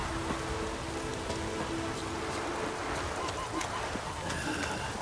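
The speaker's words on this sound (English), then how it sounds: "Raining fucking buckets." Heavy rain pours down in a dense, even, hissing patter that stays loud and unbroken throughout, with no one speaking.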